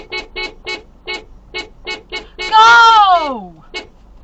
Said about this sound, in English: Just keep honking.